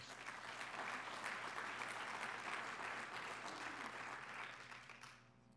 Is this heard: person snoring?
no